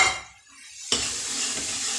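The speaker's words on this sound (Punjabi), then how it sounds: "ਹੁਣ ਆਪਾਂ ਇਹਦੇ ਵਿੱਚ ਐਡ ਕਰ ਲੈਣੇ ਆ ਟਮਾਟਰ ਅਦਰਕ ਤੇ ਹਰੀ ਮਿਰਚ" Tomatoes, ginger and green chilli drop into a pan of roasted dry spices for a curry, bursting into a loud, steady sizzle after a short quiet stretch, with light stirring.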